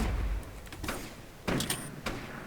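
A door opening in the Fortnite video game, heard as a few clunks and a sliding creak among scattered thuds and game sounds, at moderate loudness and fairly close.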